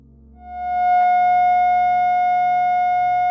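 A steady synthesized F sharp tone rises in quickly and then holds a single clean pitch with bright harmonics, sustained and loud until it ends.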